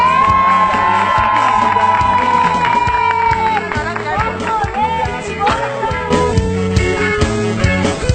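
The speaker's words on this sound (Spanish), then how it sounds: "¡Aplausos para la chica del Tape!" A crowd in Colonia Independencia, Paraguay, cheers and whoops loudly with some clapping, lively shouts and voices layered over music, steady and close throughout.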